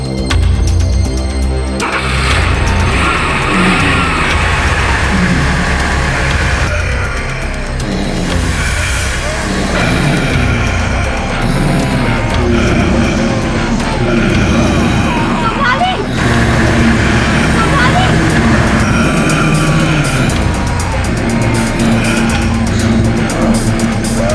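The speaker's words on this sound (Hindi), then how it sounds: "गाड़ी चालू करो।" A car revving and speeding away hard, its engine roaring loudly with tire squeal and skidding, over a dense, dramatic horror score.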